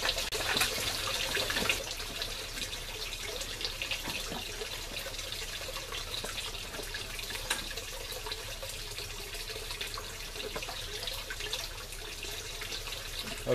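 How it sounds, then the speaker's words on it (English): Water runs steadily into a bucket serving as an aquaponics fish tank quarantine filter, a constant hissing, gurgling flow at moderate distance with a few brief splashes, no talking. "Bucket wants to float until water's in it."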